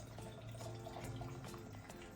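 Water runs from a tap into a container of apples and sugar being made into apple cider vinegar, a faint, steady splashing pour with a low hum underneath.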